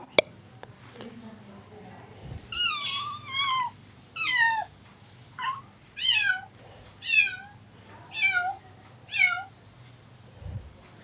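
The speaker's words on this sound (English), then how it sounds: "This is a cat." A cat meows about seven times at a fairly regular pace, each call drawn out and falling in pitch. The meows are clear and close against a faint hum.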